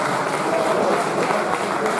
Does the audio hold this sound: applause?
yes